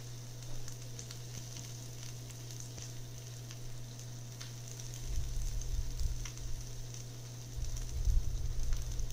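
Broccoli goes into a hot pan for a Chipotle-style bowl, and a steady sizzle swells louder as the florets land and fry, with a brief stirring rustle.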